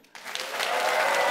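Following a brief quiet moment, applause from a late-night talk show audience voting on a song title erupts abruptly and swells into full, dense clapping that keeps building to the end.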